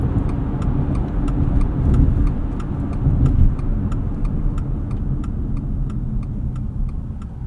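A 2024 Subaru Outback Touring XT with a CVT and 260 horsepower pulls away from a stop, a steady engine drone rising under cabin road noise with a regular ticking like an indicator throughout, heard from inside the car.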